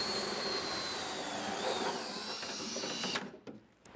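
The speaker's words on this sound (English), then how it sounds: "Drill the hole to a 7/16 inch size." A steady, loud whirring power drill bores a 7/16 inch hole in the body of a 1968–1969 Camaro RS, running continuously for about three seconds, then cuts off, leaving faint clicks and rustling.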